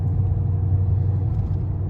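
A cammed 6.4-liter Dodge Challenger Scat Pack idling, a deep, steady low rumble with a slightly uneven throb, close and fairly loud, with no other sounds over it.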